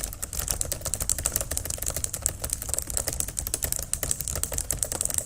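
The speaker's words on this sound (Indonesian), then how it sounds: "Nah, bisa mengetik lagi misalnya." Rapid, continuous typing on a computer keyboard while text is entered in Microsoft Word, close and fairly loud, with dense overlapping key clicks and no voices.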